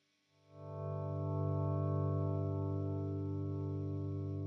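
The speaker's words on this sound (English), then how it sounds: "And you can hear when you do that with the Nemesis, it's much smoother than the other delays." A Strymon Nemesis delay pedal driven into oscillation with a guitar swells up from silence into a loud, sustained, smooth droning tone that holds steady without any voice.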